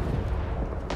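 A grenade explosion in Rising Storm 2: Vietnam rumbles as a dense, heavy, continuous blast of low booming noise, loud and close, with battlefield din around it.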